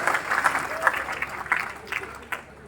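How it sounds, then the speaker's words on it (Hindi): A Gurukul audience claps to welcome the poet Vishvendra to a poetry recitation, a moderate, steady patter of many hands with some scattered louder claps, heard alone. "जोरदार तालियों से विश्वेंद्र जी का स्वागत करें"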